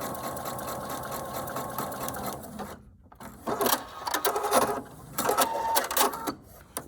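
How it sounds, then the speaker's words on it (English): A sewing machine stitches a straight line with a fast, rhythmic mechanical whir. It pauses briefly, then runs again in bursts, close and clear. "you just sew straight line and keep it over there on that right hand side"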